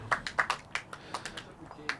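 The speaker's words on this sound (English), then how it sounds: "Big round of applause there from the gallery" A small gallery at a croquet finals match gives a brief round of scattered, distinct handclaps, about eight separate claps spread across two seconds, moderately near with quiet gaps between them.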